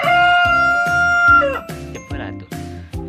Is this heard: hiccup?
no